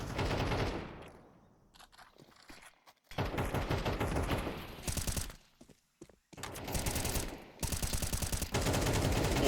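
Rapid bursts of wall bang gunfire crackle in a competitive video game match, dense automatic volleys broken by short pauses, loud and continuous across the scene.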